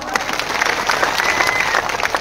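A crowd at an outdoor OBC political rally in a village claps loudly and continuously in a dense, even wash of applause heard up close, with no break and no voice rising above it.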